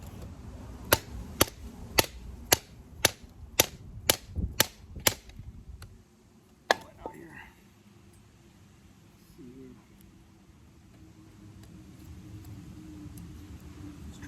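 A large wood-handled Bowie hunting knife chops into a knot in wood: about nine sharp, evenly spaced blows land in quick succession, then a pause, one more hard strike, and quiet afterward.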